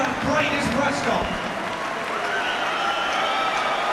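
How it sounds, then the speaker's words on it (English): Crowd applause and cheering at a boxing event after a fight between Kevin Mitchell and Bredis Prescott, a steady dense roar of clapping with mixed crowd noise and some talk underneath, holding loud throughout. "Ladies and gentlemen, a round of applause for the talented,"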